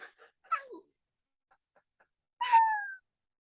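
A cat makes a short, close vocal sound, then a few faint clicks in near silence, followed by a louder, longer drawn-out meow.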